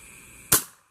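A single sharp gunshot cracks out close by while shooting at birds, a loud report that fades quickly into quiet with no voices around it.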